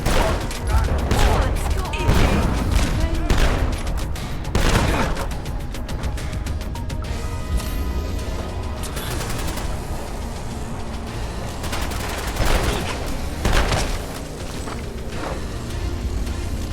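Gunfire in the video game Fallout: London: loud, close bursts of rapid shots, with a dense fusillade in the first few seconds and sporadic blasts later over a rumbling game background.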